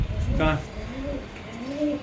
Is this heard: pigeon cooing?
yes